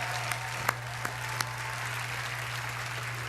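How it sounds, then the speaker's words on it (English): A crowd applauds continuously at the Bethesda E3 2016 press conference, a dense, even clapping wash with a few sharper claps standing out, heard from a distance. "Can I please have another round of applause"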